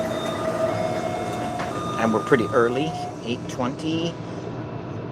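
Taipei metro train riding between stations, a steady rumble and hum of the carriage with tonal whine, while people talk close by over it.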